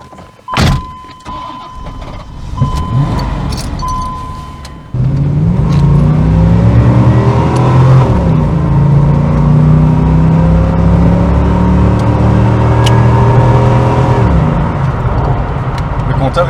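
A Chevrolet Corvette C4 with a 5.7L V8 pulls away: a quiet idle and whir for the first few seconds, then a loud, steady engine drone with rising harmonics as it accelerates, while people talk inside the car.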